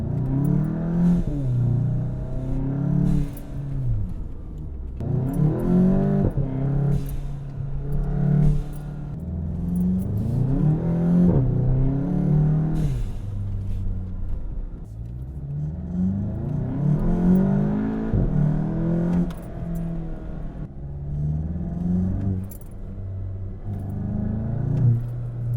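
A VW MK7 GTI revs repeatedly in cycles, each throttle blip rising and falling, with the turbo blow-off valve releasing as it drops, heard close with no talking.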